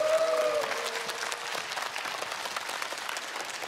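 An audience at a lecture hall talk on happy marriages claps steadily, a dense, even patter of many hands that fades slightly as it goes on, heard alone.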